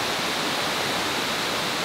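Water rushes steadily down Dunn's River Falls in Jamaica, a loud, even, unbroken hiss of cascading water close by with no other sounds standing out.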